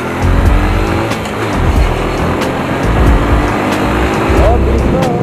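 A Honda Dream motorcycle revs and accelerates hard nearby, its engine roar steady and loud for several seconds with passing traffic noise and a talking voice around it.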